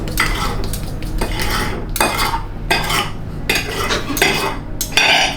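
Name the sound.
cutting food on a plate with a fork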